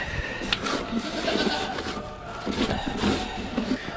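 Goats bleating in a stall at night feeding time, several overlapping calls rising and falling throughout, close and fairly loud amid rustling.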